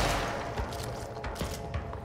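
An enemy fires a rocket in the video game Control. A few faint, distant bursts and thuds are scattered over a continuous rumble of battle noise and gunfire, with no voices.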